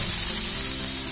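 Cumin seeds dropped into a hot pan of oil with tomato, onion and garlic for misal, crackling in a loud, dense, continuous sizzle close up.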